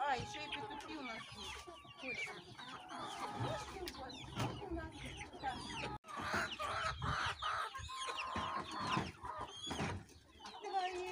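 Hens and roosters cluck and squawk in a busy flock as they crowd onto a watermelon at feeding time, close and continuous, with a voice speaking over the birds.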